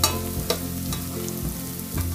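Onions and dry spices sizzle in a hot pan while a spoon stirs them in a few quick scraping strokes. The sound is close and fairly soft, with no voices.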